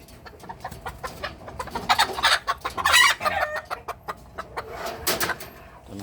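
Native chickens cluck busily close by while a rooster crows, the calls overlapping in a lively, fairly loud mix during an early-morning delivery.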